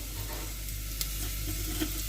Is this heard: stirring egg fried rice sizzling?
yes